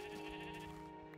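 A single Minecraft sheep bleats in a steady, wavering tone for about a second, close and clear, with no talking.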